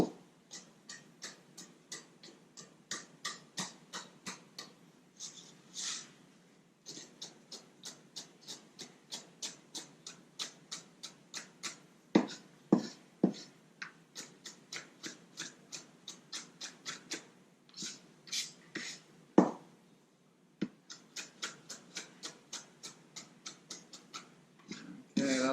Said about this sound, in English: So you might mince it for a little bit longer than usual.